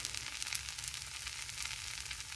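A steady, soft hiss of millet and mixed-pulse dosa batter cooking on a hot pan, continuous and faint with no talking.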